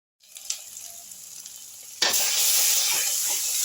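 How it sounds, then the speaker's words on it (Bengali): Chicken with ginger, garlic and onion frying in oil in a pan, a quiet low sizzle that suddenly jumps to a loud, dense, steady crackling hiss partway through and holds there. "এবার আমি এটাকে আরও 5 মিনিট সুন্দর করে ভেজে নিচ্ছি।"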